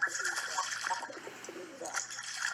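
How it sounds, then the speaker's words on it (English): In a snow-filled alleyway, a pigeon coos softly and repeatedly at close range over a faint, hissy background, with no clear wingbeats. "I heard a pigeon call behind me, wings flapping"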